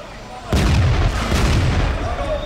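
A tank gun fires in the World of Tanks video game during a competitive match, one loud booming shot with a long rumbling tail, followed by more muffled firing and battle noise.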